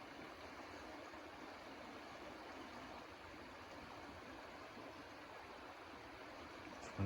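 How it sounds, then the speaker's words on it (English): Stream water flowing steadily near a homestead at Eagles Ridge, a soft, continuous broadband rush that stays even throughout, faint and unaccompanied by talk. "It's fun to hear the water."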